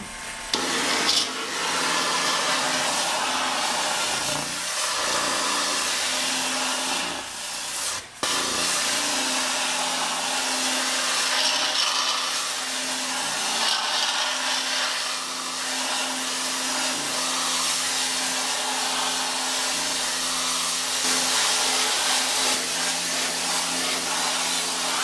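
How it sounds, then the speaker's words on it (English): An RS 1500A high pressure washer, rated 1500 PSI, runs while stripping a screen-printing stencil. It gives a loud, steady, close hiss and roar that drops out only for a brief moment partway through. "this is the RS 1500A high pressure washer"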